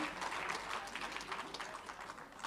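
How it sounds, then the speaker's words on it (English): Audience clapping at an alternative justice system conference, a dense continuous patter of many hands, fairly quiet and distant, filling the whole moment without speech. "Can you clap for FIDA,"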